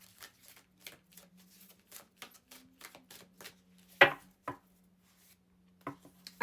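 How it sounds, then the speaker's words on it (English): True Love Oracle cards are shuffled close by, dry clicks and light slaps in quick uneven bursts, with a few sharper riffles and a faint steady hum underneath. "And then we'll go to the True Love Oracle cards."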